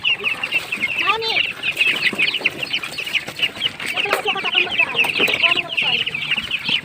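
Young chickens, about 45 days old, cluck and peep busily while eating, a dense, close chatter of many birds, with occasional louder calls and a voice briefly in the mix.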